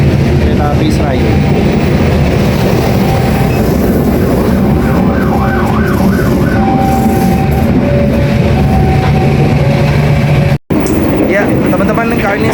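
The Serayu passenger train rolls along the railway toward Purwakarta and Bandung with a steady, loud rumble of wheels and carriages. A few brief tonal whines rise over the noise, which drops out for a moment near the end.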